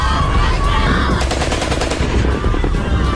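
Rapid bursts of automatic gunfire from weapons training by women fighters of the YPJ, loud and close, with sharp repeated cracks in quick succession over continuous background noise.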